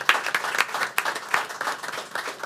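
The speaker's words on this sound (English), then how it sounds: "So you, that's right, you can clap." Clapping from the audience at a board meeting, loud and close, with uneven bursts of claps rising and falling across the moment.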